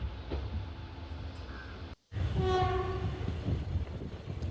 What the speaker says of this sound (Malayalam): നമ്മുടെ ട്രെയിൻ കൊല്ലത്തിനോട് ബൈ ബൈ പറഞ്ഞുകൊണ്ട് പ്ലാറ്റ്ഫോമിൽ നിന്ന് അങ്ങോട്ട് ഇറങ്ങുകയാണ്